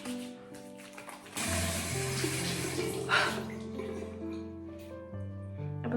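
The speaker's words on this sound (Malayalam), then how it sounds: "നമ്മൾ രണ്ടാമത്തെ പ്രാവശ്യം കുറച്ച് പ്രൊഡക്റ്റ് എടുത്തിട്ട് ചെറുതായിട്ട് വീണ്ടും ഒന്ന് മുഖം കഴുകുക" Lukewarm water runs steadily from a tap while a face is washed, a continuous splashing rush close by with music playing underneath throughout.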